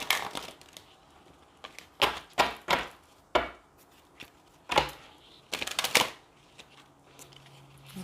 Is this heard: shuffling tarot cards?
yes